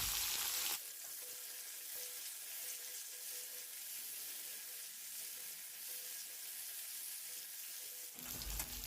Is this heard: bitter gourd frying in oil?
yes